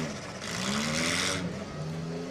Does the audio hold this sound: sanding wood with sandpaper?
no